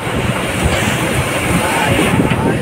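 Big rolling sea waves, some about ten feet high, break around a working boat out on open water, making a loud, continuous wash of surf with wind buffeting throughout.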